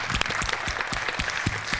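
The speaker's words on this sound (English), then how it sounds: "that deserves an applause" A crowd at a panel discussion applauds with a dense, steady patter of clapping that continues throughout.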